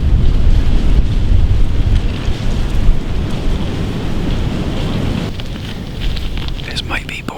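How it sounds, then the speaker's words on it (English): Heavy December wind on Michigan public land during deer season buffets the microphone with a constant low roar, fading slightly toward the end as faint higher sounds appear. "It's been crazy windy."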